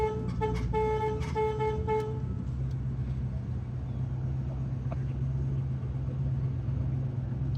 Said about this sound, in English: It might be the horn